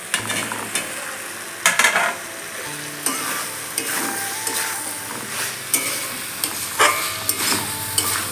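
Soaked cauliflower florets hit spiced oil in a pan and sizzle steadily, with a spatula stirring and scraping in intermittent bursts over the continuous frying hiss.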